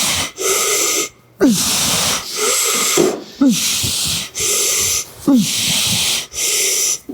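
Heavy, loud breathing close to a podcast microphone, long hissing exhales alternating with sharp snorting inhales in a steady rhythm, with no talking.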